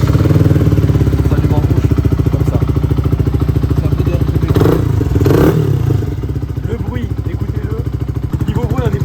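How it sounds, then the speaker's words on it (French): A brand-new motorcycle still being broken in runs with a loud, rapid, pulsing engine beat close by, briefly surging in a couple of short revs before settling back to a steady idle. "si je démarre la moto"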